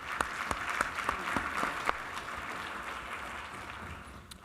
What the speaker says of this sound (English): Let's give them a round of applause for their support in this event and for their partnership with us.